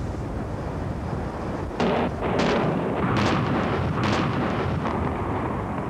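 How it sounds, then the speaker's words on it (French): Demolition blast bringing down a textile factory building, a loud sustained roar with several deep booming detonations in quick succession, heard from a distance and without voices. "l'explosion a plutôt démoli l'intérieur de la structure"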